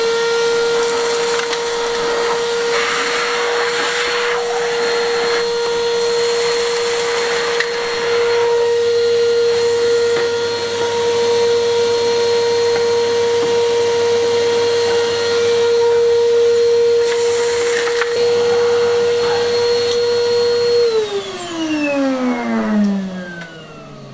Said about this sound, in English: I'm going to get this hoovered out